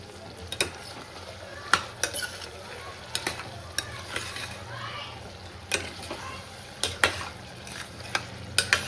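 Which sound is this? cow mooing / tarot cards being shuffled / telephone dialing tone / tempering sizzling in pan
tempering sizzling in pan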